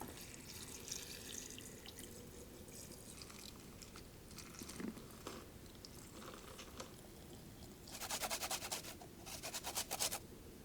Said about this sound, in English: I'm gonna actually pour a good splash of that in here